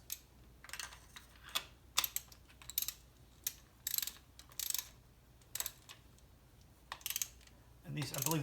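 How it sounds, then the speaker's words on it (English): A ratchet wrench torques spark plugs down on a Nissan Maxima during a 100,000-mile tune-up, giving bursts of quick clicking in an irregular rhythm with pauses between strokes, close and fairly quiet with no talk. "We'll just torque it down."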